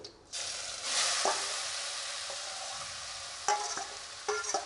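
Grated mango coated in turmeric and salt, with cinnamon pieces, hits hot oil in a kadai and sizzles loudly and steadily, with a few soft clinks of stirring near the end.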